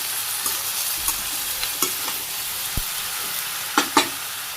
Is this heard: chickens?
no